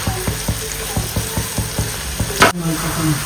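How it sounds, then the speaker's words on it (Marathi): Sliced onion frying in hot oil for a methi chutney, cooking toward a golden brown: steady close sizzle with rhythmic scraping strokes of a spatula roughly every half second, and one sharper clatter near the end. "गोल्डन ब्राऊन कलर येईपर्यंत आपल्याला आता कांदा या ठिकाणी तळून घ्यायचा आहे"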